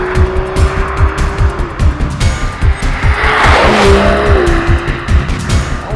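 Aston Martin DB11 AMR with a 5.2-litre twin-turbo V12, loud and close throughout, a steady pulsing engine note with rising and falling revs and a brief tyre squeal partway through.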